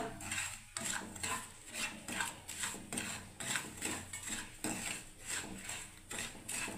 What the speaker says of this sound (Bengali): আমি সুজিটাকে নাড়ছি বন্ধুরা